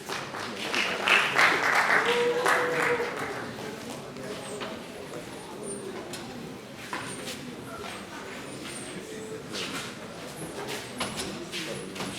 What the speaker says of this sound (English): please let's clap for them as they go back to their seats